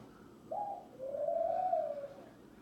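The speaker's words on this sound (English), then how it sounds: "Just ignore the birds in the background." A pigeon or dove coos in the background, a short note then a longer soft warbling coo, mid-distance and fairly quiet against a low hum.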